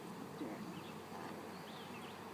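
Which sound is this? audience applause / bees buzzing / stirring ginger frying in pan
bees buzzing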